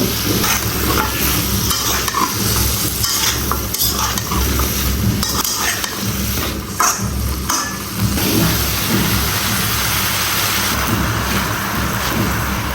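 Potato pieces and Malabar spinach stems being stir-fried in a pan, loud continuous sizzling with busy scraping and clanking of a spatula against the metal, no voices.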